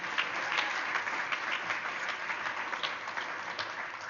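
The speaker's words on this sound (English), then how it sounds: "Another round of applause. Cheer for him on his way out." An event audience gives a dense, steady round of applause, with many hands clapping continuously at close range. Some cheering is mixed in.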